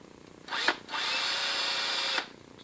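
A power drill bores a round hole in a discarded carpet cleaner part, two short whirring bursts followed by a steady, close drilling run of over a second that then stops.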